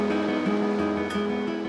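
Ocean waves break on a Cornwall beach as a steady wash of surf, heard under a sustained tonal music bed.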